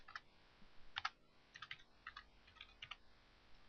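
Soft typing on a computer keyboard, a scattered series of light key clicks in small bursts, faint and close, with no talking.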